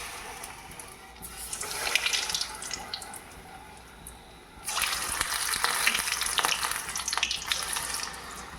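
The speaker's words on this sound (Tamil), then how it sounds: "இப்போ நம்ம குட்டி குட்டி போண்டாவாக எடுத்து விட்டுக்கலாம்." Small sweet jaggery bondas fry in hot oil on a tawa, a steady broadband sizzle that swells louder partway through and stays dense and bubbling to the end, with no voices.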